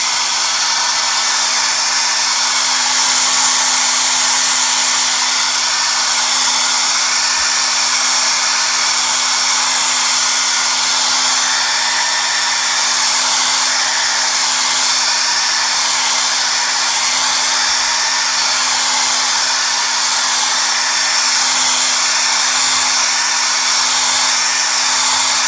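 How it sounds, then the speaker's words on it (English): Hair dryer blowing on wet paint on a landscape painting, a loud, steady, close whoosh with a constant hum that runs unbroken throughout with no talking. "I'm going to blow dry all this first"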